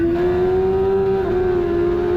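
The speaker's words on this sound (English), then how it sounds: "a slightly better engine than Ryan, I managed to get going past him on the left" A race car at Brands Hatch in a wet race accelerates hard from close by, its engine a loud steady drone that rises slightly in pitch, with no talking.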